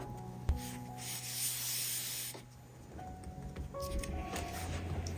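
Maida flour is spread over dough on a kitchen countertop with soft rubbing and brushing swishes, a light thump at the start, close and quiet with faint background hiss.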